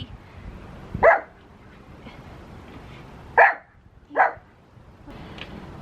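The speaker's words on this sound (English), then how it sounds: "I also like to work with my dogs, as you can probably hear" A few dogs give short, sharp barks indoors, three or four isolated yips spaced a second or two apart over quiet room noise.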